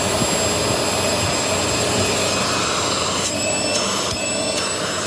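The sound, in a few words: vacuum cleaner running with crevice tool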